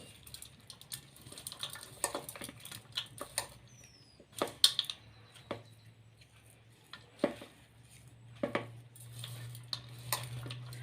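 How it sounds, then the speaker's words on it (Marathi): Dahi kala, a curd dish with plenty of coriander, mixed by hand in a dish: irregular soft clicks, taps and light clinks of the bowl, faint and close with quiet gaps. "आणि आता हाताने मिक्स करत आहे मी दही काला आहे"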